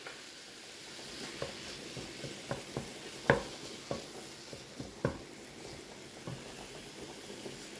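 Salted ground meat cooks with leeks in a Cosori 6.4 L air fryer, a soft low sizzle broken by scattered clicks and stirring taps, close and quiet.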